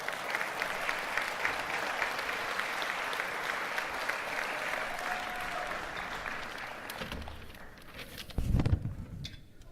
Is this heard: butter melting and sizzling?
no